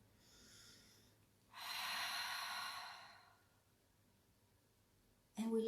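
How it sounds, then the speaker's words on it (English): A slow, deliberate breath during a guided emotional-release breathing exercise: a soft airy inhale, then a longer fuller rush of air, fading to near silence before a brief sharp sound at the end. "Physically, we take a breath."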